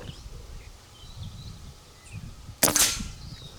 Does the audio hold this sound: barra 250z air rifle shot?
yes